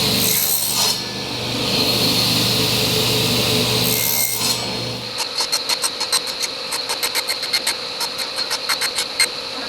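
A motor drones loudly for several seconds and then cuts off, after which a saw works wood for a cold frame in a run of short, regular rasping strokes, close up.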